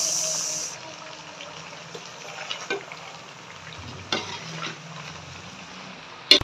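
About two kilograms of vegetables stirred into frying masala for a salan, giving a low, quiet sizzle with soft stirring scrapes and a few sharper clicks, the loudest at the very end.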